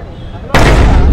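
A hammer strikes a strength-test hammer game machine at an open challenge event held at a hotel. Crowd chatter comes first, then one sudden, loud blow that fills the air and rings on with crowd noise beneath it.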